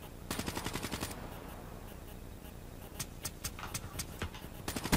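Gunfire in the Black Ops 3 video game: a rapid automatic burst opens, followed after a pause by scattered single shots and short volleys, loud and close with no voices.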